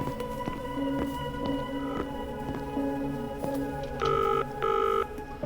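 An office telephone in an indie horror game rings in two loud, steady electronic bursts near the end, over a backdrop of softer tonal chiming and game ambience.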